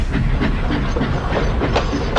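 A train rumbles steadily along the rails with a rhythmic clickety-clack of wheels over joints, loud and close, no voices.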